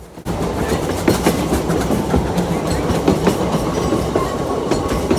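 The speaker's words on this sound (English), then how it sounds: "the train accelerated to hopefully get the trip done quickly" A museum train runs on its track, a loud, continuous rolling rumble with rhythmic clickety-clack wheel beats and metallic clicks throughout, starting abruptly after a brief quiet moment.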